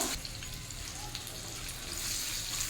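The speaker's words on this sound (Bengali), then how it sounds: "কাজুটাও একটু 1 মিনিটের মধ্যে ভেজে নেব" Cashews frying in a pan for a raw mango chutney, a soft, steady sizzle at low level with faint spatters and no voices.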